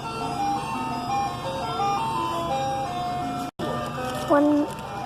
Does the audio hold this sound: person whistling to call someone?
no